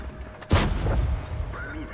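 A tank cannon fires a gold round in the World of Tanks video game, a single loud boom followed by a rumbling tail and faint mechanical sounds, with someone speaking throughout.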